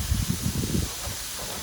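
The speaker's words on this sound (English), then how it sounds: "It seems to be searing up awesome already." A Denver steak searing on a Blackstone griddle, a steady hissing sizzle that runs throughout, close and fairly soft, with low muffled thumps in the first second and no talk.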